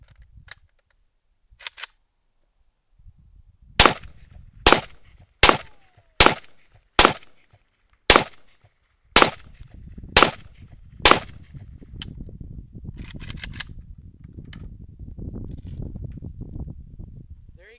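An M85PV pistol fired with a steel magazine: about nine sharp, loud shots in a fairly steady rhythm, followed by a low outdoor rumble of wind and handling noise.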